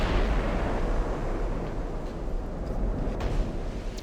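Naval gunfire in the warship game Ultimate Admiral: Dreadnoughts, a dense sustained rumble of distant heavy guns with deep booming low end and a few sharper reports poking through, no voices present.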